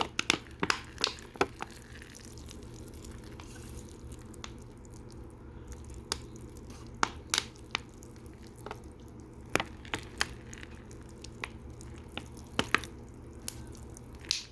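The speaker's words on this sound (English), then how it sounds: "Now I'm going to water them all down. Water those seeds over again" Water poured over pear seeds planted in dirt in a small pot, quiet close drips and soft wet squishes scattered irregularly over a faint steady background.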